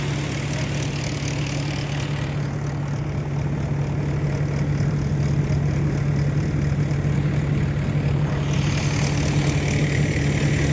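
A tractor engine drones steadily and continuously during a peanut harvest on a farm, a low heavy hum with a constant pitch running alone from start to finish at a fairly close distance.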